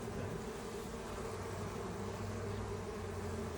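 A dense swarm of honeybees hums steadily inside an opened Langstroth beehive as they clean the bottom, a continuous close buzz with no talk.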